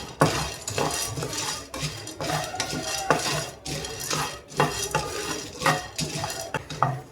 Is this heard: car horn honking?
no